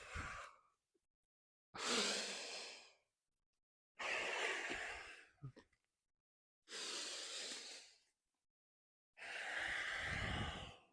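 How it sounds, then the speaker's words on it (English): Slow yoga breaths drawn through the nose during a power flow practice, five long airy inhales and exhales separated by short silences, close and fairly soft, with no talking. "I'm just going to stop talking, and I hope you can hear my breath."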